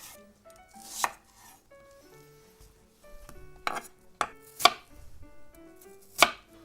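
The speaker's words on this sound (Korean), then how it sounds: "무는요 두껍지 않게 얇게 썰어주세요" A knife slices radish thinly on a cutting board, giving sharp separate chops at irregular intervals, close and clear, with soft clinks of kitchen utensils between them.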